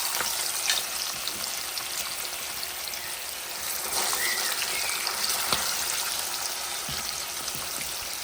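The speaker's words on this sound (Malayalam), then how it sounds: "ഇനി നമുക്ക് എന്തായാലും അടുത്ത ട്രിപ്പ് മീനൊന്ന് ഇട്ട് കൊടുക്കാം" Fish frying in a generous amount of hot oil in a pan: a steady, dense sizzle with occasional pops and crackles, close and continuous with no talking.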